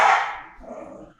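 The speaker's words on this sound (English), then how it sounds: "All the people are just getting this crazy dog in the background." A dog in the background gives one loud bark that fades into a low growling rumble.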